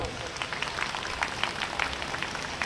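An audience at a Kashyap Jayanti gathering in Najafgarh, Delhi, claps in a steady, moderately loud round of applause with a murmur of voices underneath.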